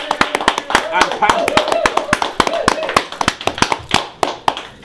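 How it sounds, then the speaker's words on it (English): An audience applauds loudly with dense, sharp hand claps, while voices call out and cheer underneath. "give him a round of applause"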